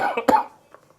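A single short, sharp cough, fairly close, followed by faint trailing sounds.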